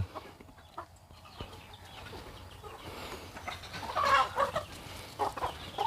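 Young chickens clucking and peeping softly while pecking at scattered feed on a farm, scattered calls rising louder near the end over a quiet background.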